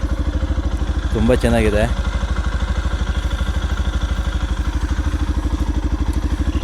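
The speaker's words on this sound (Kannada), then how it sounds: "ಎಕ್ಸಾಸ್ಟ್ ಸೌಂಡ್ ಕೇಳಿ" A Yamaha FZ Hybrid motorcycle idles close by, its exhaust putting out a steady, even stream of rapid low thumps from start to finish while a voice briefly speaks over it.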